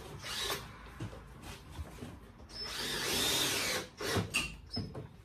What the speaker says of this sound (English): we're putting in the rest of the screws